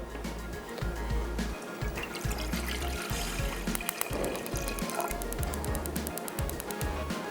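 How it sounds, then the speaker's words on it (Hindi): Water splashes and trickles as it is poured into a cooking pot to make a double boiler, a faint, uneven liquid sound with small gurgles and clatters in a kitchen. "एक पतीली के अंदर पानी डाल के रखते हैं और उसको करते हैं गरम"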